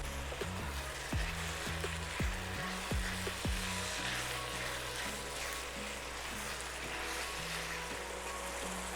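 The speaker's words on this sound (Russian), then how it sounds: "Нам очень нужно жарить и тушить до тех пор, пока вода не выпарится вся." Steady crackling sizzle of minced beef and pork frying in a hot pan for bolognese ragù, a continuous hiss with a few faint clinks near the start.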